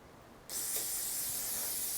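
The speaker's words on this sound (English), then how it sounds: "So I've got some good old degreaser here." A can of degreaser sprays onto a Damascus steel knife blade in one steady, close, loud hiss that starts abruptly and holds without a break.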